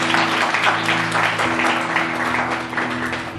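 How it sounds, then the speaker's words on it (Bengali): A church congregation claps loudly and continuously, a dense sustained wash of applause with a low steady hum beneath it. "ঈশ্বরের জন্য জোরে করতালি দিতে পারি।"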